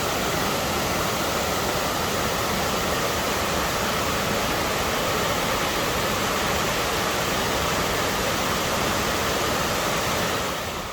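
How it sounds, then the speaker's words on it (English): El Caracol waterfall in Chiapas, Mexico roars as a loud, steady, unbroken rush of falling water that fills the whole stretch, with no voices. "We are coming up on the waterfall called El Caracol"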